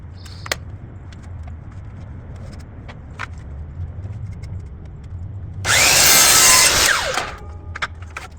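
Crown molding for kitchen cabinets is cut at an outside corner with a power saw, a loud burst of about a second and a half of whining cutting, set between quiet handling clicks and low background hum.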